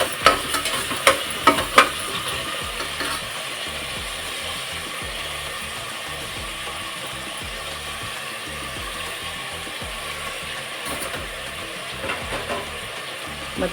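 Green chilies and tomato frying in a pan for kushka, a steady sizzle with repeated scraping stirs, a few sharper clanks near the start, no voices.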